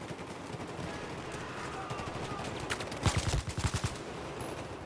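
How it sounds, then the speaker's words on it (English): A flashbang going off inside a room during a Battlefield 4 multiplayer match, heard as a quick burst of sharp cracks and thumps above a constant gritty game background, with no talking. "now I'm trying to cover both sides with a flashbang"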